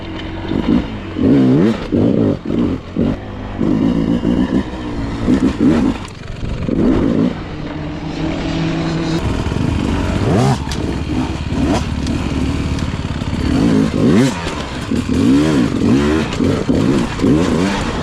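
Enduro motorcycle ridden at full throttle on hot, dusty sprint enduro training ground, engine loud and close, revving hard in repeated surges and gear changes with some scraping and clatter.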